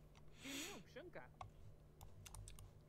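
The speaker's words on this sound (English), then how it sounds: "Go practice your typing." Quick computer-keyboard typing in the video game The Sims 4, a scatter of light clicks under a steady background hum, with a brief chirpy game voice sound near the start.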